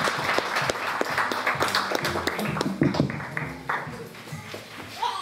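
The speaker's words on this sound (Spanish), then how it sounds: "les pido un fuerte aplauso para el señor alcalde auxiliar" A crowd at an inauguration ceremony in El Cojobal applauds the auxiliary mayor with sustained, fairly close clapping that fades slightly toward the end, with a few voices mixed in.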